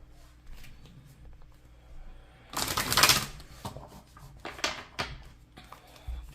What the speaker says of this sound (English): I want to shuffle this a little.